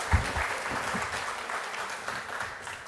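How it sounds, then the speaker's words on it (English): An audience at the 2024 Civic Learning Symposium gives another round of applause, a steady wash of many hands clapping with a few louder claps near the start. "How about another round of applause?"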